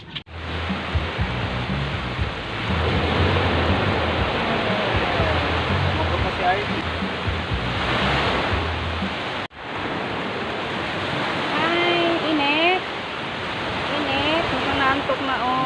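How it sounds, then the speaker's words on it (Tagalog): Sea waves wash steadily onto a beach at Dagupan in the Philippines, a loud continuous roar of surf with a brief break midway, while people chat faintly underneath. "Dito kami ngayon sa dagat."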